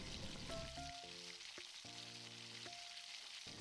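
Small banana bhaji fritters fry in oil over a medium flame, giving a soft, constant hiss and fizz. Faint tonal beeps sound through it, and no one speaks.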